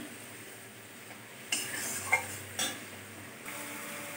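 A spatula stirs a spice paste frying in oil in a pan. A few faint scrapes and knocks sound against the metal over a quiet, low background sizzle.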